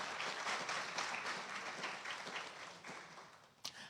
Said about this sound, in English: So let's please, a round of applause for this collective of leaders.